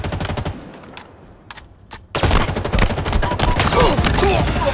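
Gunfire in Halo Infinite opens with a few scattered, separate shots, then breaks into loud, continuous rapid automatic fire that carries on to the end.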